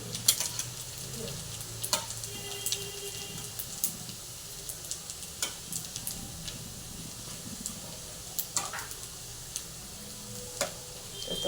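Chowmein pakoras sizzle steadily in hot oil while being stirred. Close, continuous frying hiss carries regular sharp clicks of a spatula against the pan, with no voice.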